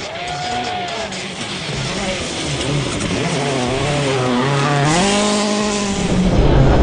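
A Citroën C4 WRC rally car on a gravel stage rises and falls through the gears, the engine revving hard and growing louder as it approaches, heard from the roadside amid crowd noise.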